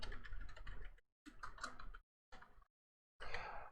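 Keys clatter in short, quick bursts while a password is typed on a computer keyboard, with brief silent pauses between the runs of close, light clicking.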